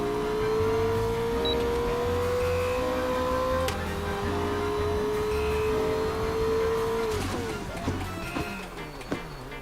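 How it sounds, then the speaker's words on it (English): McLaren 720S supercar engine fitted into a Formula race car in a video game, a steady high whine holding pitch then shifting up, with a voice talking over it. "Yeah, that's the supercar engine."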